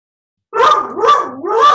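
A dog barks at a mailman outside, two or three close, loud barks with whining tones following a moment of silence, heard on its own without talk.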